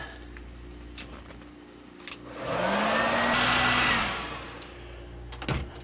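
A hair dryer switches on to dry paint on a fishing lure, whirring steadily at close range for about two seconds before cutting off, with faint handling clicks before and after.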